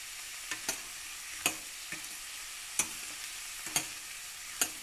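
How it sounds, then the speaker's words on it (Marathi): Onions sautéing in a pan over low-to-medium flame give a soft, steady sizzle, punctuated every second or so by sharp spatula clicks and scrapes against the pan. "कांदा मऊ होईपर्यंत परतून घेऊया."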